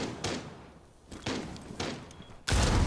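Gunfire rings out in Rainbow Six Siege, with several sharp, booming shots spaced irregularly and a heavier, louder blast at the end.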